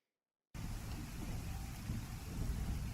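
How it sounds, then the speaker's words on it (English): After a moment of silence, a steady wash of video game rain begins and continues evenly, full and close, with a low rumbling undertone. "That rain sounds so good."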